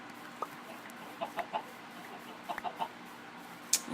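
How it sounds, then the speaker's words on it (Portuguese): Chickens clucking in the video game Minecraft, short scattered clucks in small clusters over a quiet in-game ambience, with no talk. "Só tem galinha, cara."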